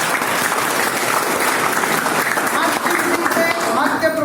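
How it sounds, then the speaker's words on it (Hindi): An audience at a talk gives sustained applause, dense, even clapping that holds steady from start to finish, with voices mixed in under it. "आपके लिए एक बार ताली हो जाए"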